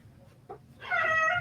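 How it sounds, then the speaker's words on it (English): A pet cat meows close by in a quiet room, one clear drawn-out meow after a soft short chirp, heard alone with no talking. "he shows up while I'm doing lives and meows"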